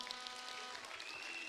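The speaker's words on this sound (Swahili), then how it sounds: "Makofi kwa Isaac once again." Faint, steady applause from a crowd at a swearing-in ceremony for a deputy governor of Homa Bay County, a soft broadband patter lasting under two seconds.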